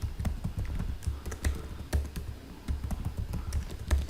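Keys clack on a computer keyboard as a password is entered while installing Debian 12.7 in a VirtualBox virtual machine, a quick, irregular run of close, crisp taps with no talk.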